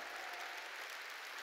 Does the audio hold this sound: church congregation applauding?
yes